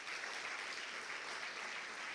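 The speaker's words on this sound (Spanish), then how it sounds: "Dame un aplauso al Espíritu Santo" A church congregation claps in steady, even applause that carries on throughout, dense and moderately loud in a reverberant room, with no voices on top.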